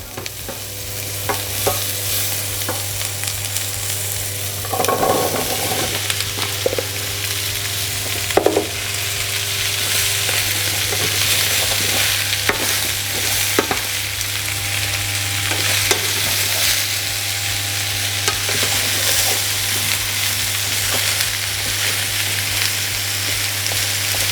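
Butternut squash fries steadily in a pan with a continuous loud sizzle, broken by occasional scrapes and clinks from stirring, with no talk over it.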